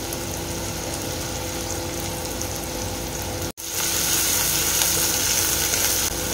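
Chilies sizzle steadily in hot oil in a pan for a spicy Marathi chicken rasa. There is a dense, even crackle, a brief dropout just past the middle, then a louder, brighter hiss to the end.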